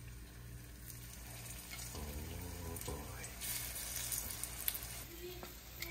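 Empanadas frying in hot leftover oil in a home kitchen, a steady broadband sizzle running throughout with brief louder crackles and faint kitchen clatter.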